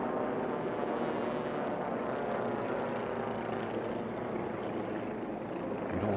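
A DG2 racing plane drones past at a Formula One pylon air race, its steady propeller and engine roar filling the air continuously and fairly loud, with no talk over it.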